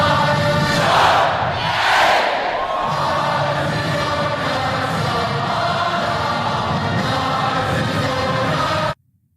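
A large student crowd at a Turning Point USA event at Texas A&M roars and cheers loudly, with whoops and yells peaking early and then a sustained wall of crowd noise that cuts off abruptly.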